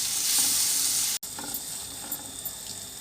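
Blended tomatoes being stirred into chicken curry in a pan: a loud, steady sizzle with scraping, which drops out abruptly for a moment, then softer sizzling with a few light clicks and scrapes.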